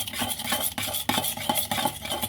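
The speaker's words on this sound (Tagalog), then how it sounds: "Haluin na natin." Cucumber salad being stirred with its sauce in a bowl, a busy run of wet clinking and scraping strokes from a utensil, close and continuous without speech.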